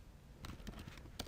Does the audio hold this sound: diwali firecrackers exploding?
no